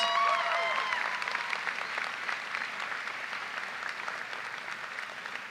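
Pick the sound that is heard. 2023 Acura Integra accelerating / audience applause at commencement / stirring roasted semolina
audience applause at commencement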